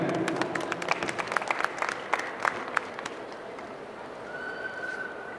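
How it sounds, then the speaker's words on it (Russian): An audience claps to welcome the performers of a sign-language song, with scattered sharp claps that thin out and fade, leaving a quiet room with a faint tone near the end. "Прошу, встречайте аплодисментами."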